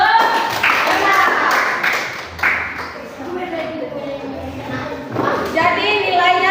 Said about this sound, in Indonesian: Oke, tepuk tangan untuk kelompok 1 dan 2.